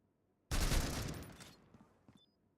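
Gunfire in the shooter Critical Ops during a tournament match, a sudden loud burst of rapid automatic fire that fades over about a second, with a few faint clicks after.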